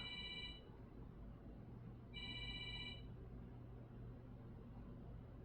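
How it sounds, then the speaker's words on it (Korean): A telephone rings during a church sermon: two short bursts of electronic ringing, the second following after a pause, faint and distant over low room hum. "지금 이 시간에 전화가 오는 거예요"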